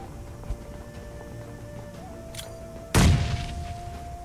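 Grenade in the mobile battle-royale game PUBG Mobile detonates with a single sudden, loud boom that decays quickly, after a few quieter background game sounds.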